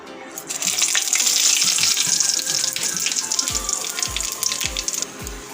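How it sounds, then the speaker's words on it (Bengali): Dry red chilli, cardamom, cloves and white cumin crackle and sizzle in hot oil with a little sugar for a Bengali chicken kosha, a steady broad fizz with a few low knocks near the end, no talking. "এখানে একটা শুকনো লঙ্কা আর এলাচ, লবঙ্গ আর একটু জিরা, সাদা জিরা ফোড়ন দেবো"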